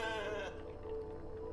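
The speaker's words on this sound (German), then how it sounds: "Guckt euch das mal an, richtig gutes Schaf." A sheep in The Alters video game gives one drawn-out bleat, loud and close, that fades into a low background hum.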